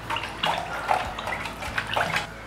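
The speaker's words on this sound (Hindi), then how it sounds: "अब हमने एक लेनी है स्टिक, स्टिक से हम इस पानी को रोटेट करेंगे, हमने पानी को पूरा घुमा देना है।" Water in a container is swirled round with a stick while making marbled painted stones, producing repeated close sloshing and splashing surges in an irregular rhythm.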